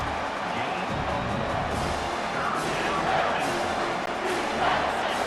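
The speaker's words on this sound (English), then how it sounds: "Third down, and this crowd is tearing the lid off this place." Loud, steady roar of a stadium crowd in the EA Sports College Football 25 video game, a dense wash of cheering that swells slightly toward the end, with occasional sharper bursts under it.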